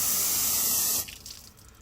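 Water spray hitting the ceramic-coated hull of a restored Supra ski boat over 30 years old, a steady loud hiss that cuts off abruptly about halfway, leaving faint dripping and trickling.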